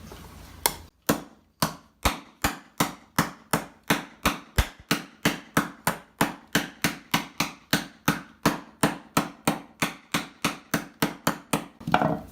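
Steel armor plate for knee and cuisse pieces hammered against a soft wood block, struck in a steady rhythm of about thirty sharp, close, loud blows with a brief pause near the start.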